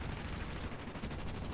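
Guns of an F7F-3 Tigercat aircraft in the video game War Thunder fire in a rapid, sustained burst, a dense stream of loud shots rattling without pause from start to finish.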